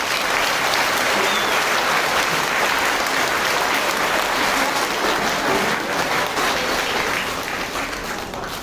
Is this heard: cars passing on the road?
no